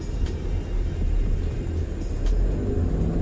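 Ford Mustang engine pulling hard in first gear, a loud steady low rumble that holds through the whole stretch without breaks.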